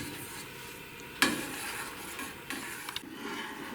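A spoon stirs a milk mixture in a saucepan on a lit stove as it heats toward a boil, making soft continuous scraping with one sharp knock against the pan, faint and without talk.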